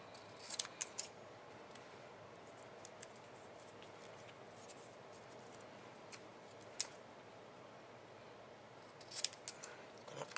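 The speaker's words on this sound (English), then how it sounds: "I'm just going to take my scissors," Scissors trimming the border of a handmade Halloween card, faint scattered snips and crisp cuts over a quiet room hum, clustered at the start and end.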